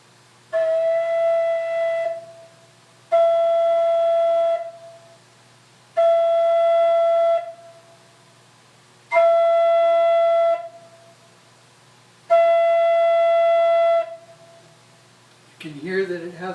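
Five sustained notes from a flute harmonique organ pipe with its toe opened wide, each about two seconds with a bright, penetrating, steady tone and clean release, separated by short gaps.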